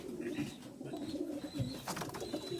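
Racing pigeons bred for a South African race coo softly in a loft, a low murmuring burble with a few faint chirps. The birds sound quiet and steady beneath a little background noise, with no talking.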